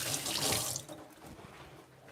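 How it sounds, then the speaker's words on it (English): Hands washed under a running kitchen tap: a close, steady gush of water that tails off quieter after the first second, with no talking. "I'm just going to wash my hands quick"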